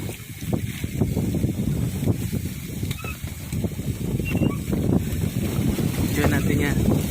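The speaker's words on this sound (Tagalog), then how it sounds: "Jackpot sa hangin at alon." Wind and waves at sea at night during traditional net fishing for sardines, heard as steady, loud rushing wind buffeting the microphone over churning water, with faint honk-like sounds and voices mixed in throughout.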